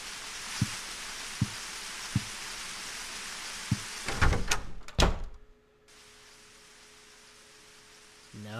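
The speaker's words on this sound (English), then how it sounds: "Sounds like heavy rain" Steady heavy rain in the video game Silent Hill 4 hisses as a broadband wash. A few soft thuds and a sharp burst of louder knocks break it midway, then the rain continues evenly.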